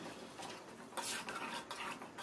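Hot water poured into a pan of borali fish and peas with bay leaves and green chillies makes a brief, soft hissing splash amid quiet stirring and utensil clatter.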